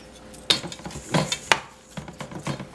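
Food being mixed in a bowl in a home kitchen, giving a few separate clinks and scrapes of utensil against the bowl with irregular rhythm, close and moderately loud, no talking.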